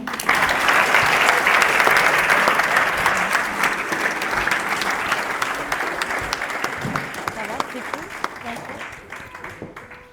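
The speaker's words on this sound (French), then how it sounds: "On applaudit Mohamed." An audience at a political meeting in Chambéry applauds loudly and continuously, the clapping slowly fading toward the end.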